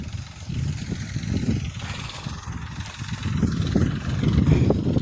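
A tractor engine chugs on a farm field, a loud, low, rough rumble that swells and eases over several seconds, with no talk.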